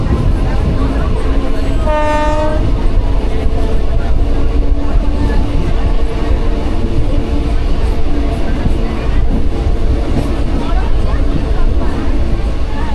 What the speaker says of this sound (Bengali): তো আমাদের ট্রেন কিন্তু ঢুকছে দেশপ্রাণে